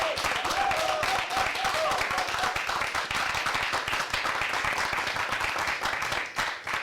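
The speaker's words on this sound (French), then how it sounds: "Et je voudrais qu'on l'applaudisse, s'il vous plaît." Steady audience applause during a television program, many hands clapping in a brisk, continuous patter at fairly close range for several seconds, easing slightly near the end.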